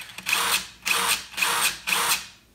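Dewalt 20V power tool powered through jumper wires from its own battery, running in four short, loud bursts with brief pauses between them, nearby and with no talk.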